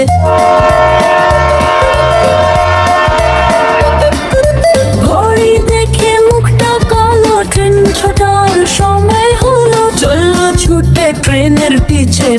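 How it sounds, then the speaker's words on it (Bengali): An animated train in a Bengali children's rhyme runs with a steady, rhythmic chugging beat, a long sustained horn at first, then a melodic tune playing over the clatter. "ট্রেন তখন চললো ধীরে"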